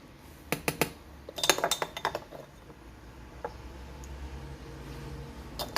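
Heaped tablespoons of starch tipped into a casserole bowl while making a strawberry-and-biscuit summer dessert, heard as a cluster of light clinks and taps of a metal spoon against the dish, then a quieter stretch of faint handling.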